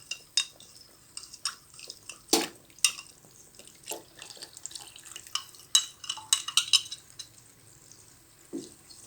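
A spoon stirs a flour mixture into a pot of chicken nihari, making irregular metallic clinks and scrapes against the pot over a soft liquid bubbling, close and moderately loud.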